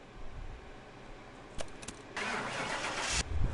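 A turbocharged Sakura Supa car engine in a car mechanic video game cranks and starts on a dyno, then settles into a steady, loud hum that builds toward the end.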